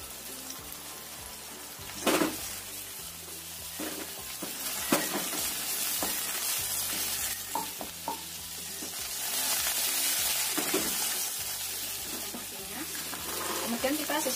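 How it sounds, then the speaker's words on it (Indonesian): Eggplant frying in hot oil, a continuous loud sizzle and crackle with spatters and stirring clatter throughout, over a low rhythmic hum. "Kita goreng terong sampai matang atau agak kecoklatan."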